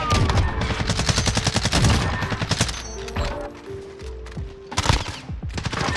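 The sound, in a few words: gunfire in a video game shooter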